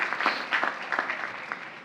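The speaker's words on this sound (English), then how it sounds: "give a big round of applause to our building and ground staff" Audience applause at the Queens College 94th commencement exercises, a short burst of fairly loud clapping from a crowd that stays steady for under two seconds.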